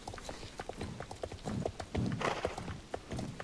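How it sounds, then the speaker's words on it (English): Horse hooves clip-clopping at a slow walk in the online horse-riding game Star Stable, a steady string of light, close hoof clops, with a brief whinny partway through and no talking. "You're a really slow horse."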